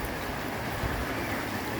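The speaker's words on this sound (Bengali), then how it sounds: "অনেক বৃষ্টি হচ্ছে" Heavy rain pours onto a flooded road in Dubai, a steady, dense hiss with a soft low rumble beneath it. It continues evenly without pause and no voices are heard.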